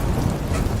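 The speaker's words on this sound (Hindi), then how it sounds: "आसमान से हल्की हल्की बारिश हो रही है और बीच बीच में बिजली चमक रही" Light rain falls steadily at night with thunder, used as a horror story sound effect; a dense, even hiss of rainfall with low rumbling runs throughout, with no voices.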